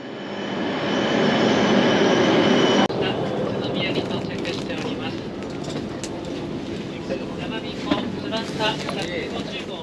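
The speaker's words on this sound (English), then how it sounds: "I made it onto the beautiful Shinkansen." Interior of a Shinkansen bullet train in Japan, a steady broad rushing hum of the ride with a brief shift partway through and faint scattered clicks, no talk heard.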